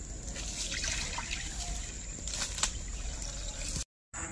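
Water is poured gently while duck meat is being prepared in a village kitchen, a soft continuous trickle for a few seconds that stops abruptly.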